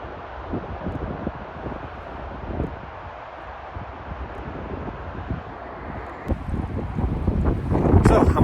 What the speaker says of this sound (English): it's actually colder at the bottom because the wind kind of blows down it